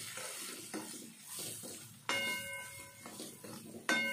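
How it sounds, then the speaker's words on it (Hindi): Spices frying in hot oil for a spiced potato curry, a soft steady sizzle with a few bright metallic clinks and scrapes of a spoon against the pan, no voices. "मसालों को भी हमें अच्छे से फ्राई कर लेना है।"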